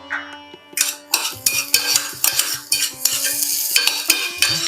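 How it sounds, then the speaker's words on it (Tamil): Steady sizzling of chopped shallots sautéing in butter in a hot pan with repeated scraping stirs and clinks of a spoon against metal, close and fairly loud, no talking. "வெங்காயம் வதக்கிட்டு இருக்கும் போது"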